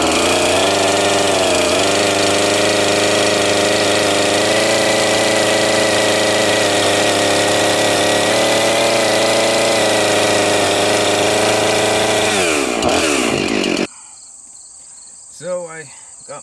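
A chainsaw cutting a locust pole into a point, droning loud and steady at close range for about fourteen seconds before cutting off abruptly, followed by faint quiet noises.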